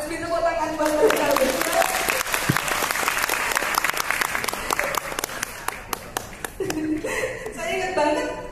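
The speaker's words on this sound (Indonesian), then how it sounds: "Minta tepuk tangan buat mereka." A crowd breaks into sustained applause, many hands clapping steadily and fairly loud, with some chatter and laughter mixed in before it tapers off.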